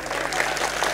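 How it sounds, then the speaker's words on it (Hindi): An audience applauds at a political rally speech: a brief, moderately distant wash of many hands clapping that stays even for about a second. "बजाओ ना ताली।"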